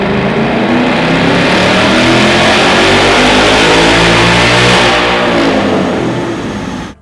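A Ford Mustang GT engine revs hard on a dyno in third gear, a loud, close, continuous roar that climbs steadily in pitch for several seconds before cutting off abruptly at the end.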